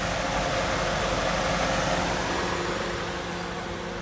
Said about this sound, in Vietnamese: Xe thì sạch sẽ, máy nổ rất êm anh chị.